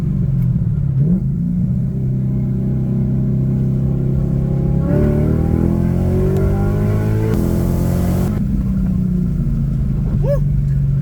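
A Cadillac CTS-V with a new exhaust pulls hard through second and third gear, its engine note rising in pitch, dipping at a shift, then climbing again. The sound is loud, close and continuous.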